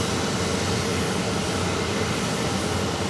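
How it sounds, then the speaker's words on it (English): Bombardier Challenger 604 business jet at Zurich Airport, a loud continuous engine roar and whine that holds steady throughout, heard from outdoors without talk. "is an Avion Bombardier Challenger 604. I don't think I've seen a 604. This one is off to Milan"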